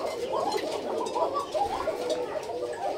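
A red Koka pigeon in its coop gives repeated low, throaty coos close by, a continuous rolling call with no other sounds over it.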